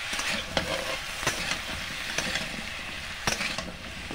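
Vegetables with salt and tomato are stirred in a sizzling pan, with a steady fry hiss broken by several sharp spatula scrapes and clicks against the metal, close up and without speech.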